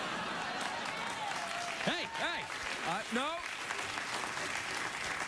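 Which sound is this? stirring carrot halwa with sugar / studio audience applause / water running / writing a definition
studio audience applause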